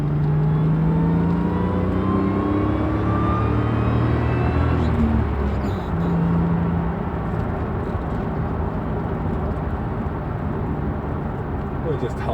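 A 1995 Jaguar XJR X300 with a supercharged engine and 5-speed manual gearbox accelerating in second gear, a loud cabin rumble with a rising supercharger whine sweeping upward, heard with some talk over it.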